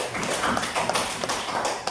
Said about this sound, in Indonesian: Tepuk tangan sekali lagi untuk itu.